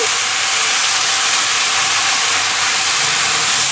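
Tomato sauce poured into a hot pan for meatless vegetable moussaka gives a loud, steady, broadband sizzle and hiss that lasts the whole time without a break.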